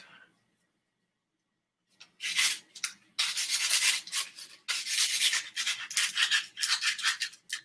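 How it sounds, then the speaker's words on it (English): Sticks being sanded smooth of their nubs with rough grit sandpaper, a run of close, scratchy rubbing strokes after a short quiet start, some strokes long and sustained, others short and choppy. "Taking sticks and all the nubs, sanding them smooth."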